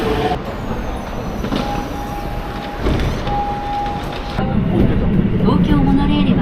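A train at a Tokyo station rumbles along with a steady roar of wheels on rails, brief high squeals from the wheels, and a heavier rolling surge near the end, while a person talks over it.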